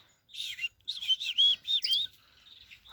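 Male Bombay bengalin finch in an outdoor aviary giving a close, bright run of chirps and short warbled notes, a few bursts in quick succession and then a fading trill, with no voices.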